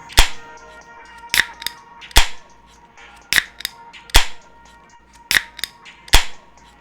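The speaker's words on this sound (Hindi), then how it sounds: "चिड़िया कालू को डंडा लेके बहुत मारती है।" A cartoon beating effect of a stick striking repeatedly, seven sharp cracking whacks spaced about a second apart, loud and close with no voices.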